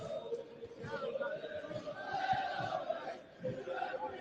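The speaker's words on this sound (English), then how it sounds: "What you can hear now is the Man City fans singing." Manchester City fans sing in the stands at a Premier League match away at Bournemouth, a distant crowd chant heard faintly beneath a commentator's close voice.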